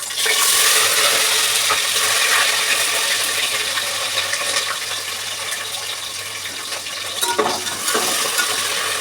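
Chopped onions and green chillies frying in hot oil for a curry, a continuous sizzling hiss with occasional stirring scrapes and clinks, fairly loud and close.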